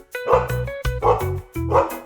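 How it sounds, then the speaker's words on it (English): A dog gives three clear, evenly spaced barks, each a short woof with a tonal ring, close and loud with quiet gaps between them. "Dogs are friendly and love to play. They say, woof, woof."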